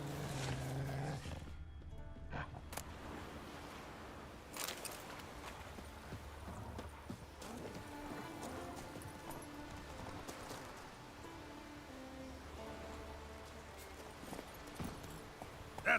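Hooves of Roach, a horse in The Witcher game, clip-clopping at a steady walking rhythm under continuous ambient game sound.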